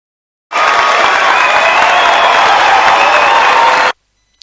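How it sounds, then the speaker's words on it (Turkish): A loud, harsh burst of crowd cheering and applause from Discord's party mode sound effect starts abruptly, holds steady for a few seconds, then cuts off sharply. "kulak tırmalayan bir tezahürat sesi çıkıyor"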